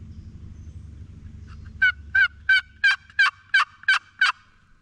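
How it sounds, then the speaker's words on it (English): A wild turkey gobbles in the woods during spring turkey season: a fast run of about eight sharp, rattling calls from roughly two seconds on, clear and fairly close above a low rumble of background noise. "I think I just heard a gobble."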